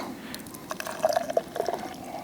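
Beer is poured from a large, thick can into a glass at a campfire: a gurgling, glugging trickle with small splashes that bubble up briefly, close and moderately quiet, with no talking.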